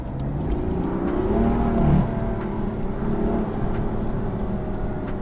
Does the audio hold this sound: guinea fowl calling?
no